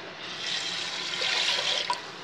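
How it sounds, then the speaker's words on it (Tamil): Water pours steadily into a cooker, three cups for pongal, a continuous splashing rush lasting a couple of seconds, close by. "3 கப்பு தண்ணி விடுறேன்."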